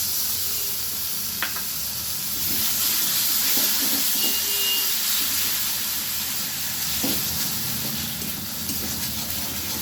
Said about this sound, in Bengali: মশলাটা আমি খুব ভালোভাবে ভেজে নেব।